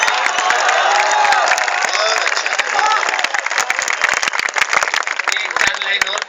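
A large audience at a 2012 Hindi kavi sammelan poetry recital at ABES Engineering College applauds and cheers loudly and continuously, a dense wash of clapping with whoops that thins slightly toward the end.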